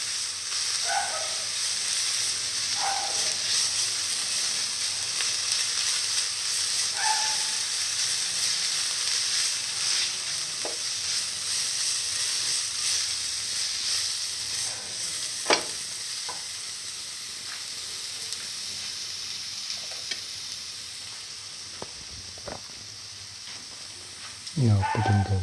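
Ginger garlic paste, salt and curry sizzling and frying in a pan for chicken potato chickpea fritters, a steady hiss running throughout with scattered stirring clicks and clatters, loudest near the end.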